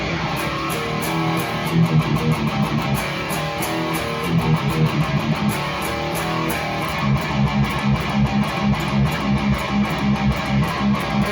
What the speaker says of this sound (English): let's boost this tone first. Clicking on the pedal.